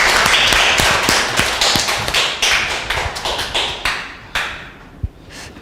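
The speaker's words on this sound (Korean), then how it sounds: "큰 박수로 선생님을 모시도록 하겠습니다" An audience applauds in a lecture hall to welcome a doctor lecturing on food and protein, a dense loud burst of clapping with a few sharper claps that fades over several seconds.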